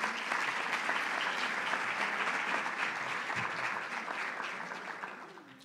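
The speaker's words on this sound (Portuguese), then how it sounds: "Um forte aplauso, por favor." Audience applause at a health conference opening, steady dense clapping from a large crowd that gradually fades toward the end.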